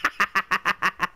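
A chicken in the video game Dead Ops Arcade 2 gives seven quick, evenly spaced squawks, each a short nasal burst about a fifth of a second apart, loud and close with no voices over them.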